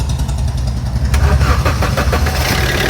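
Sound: Maruti car engine starting

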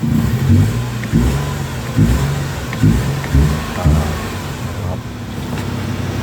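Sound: Nissan March car engine starting with push button

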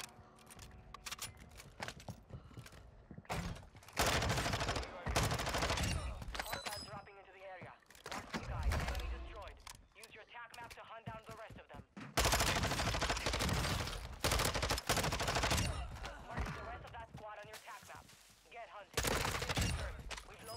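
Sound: assault rifle gunfire in video game Warzone 2

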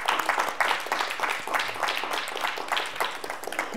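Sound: audience applause

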